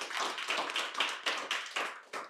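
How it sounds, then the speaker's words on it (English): A small group in a sales training session claps in a loose, rhythmic burst of about eight distinct beats, close and fairly quiet, ending with a final clap. "give these guys a round of applause"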